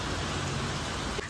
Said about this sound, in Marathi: पण ॲक्च्युली मध्येच पाऊस लागला आहे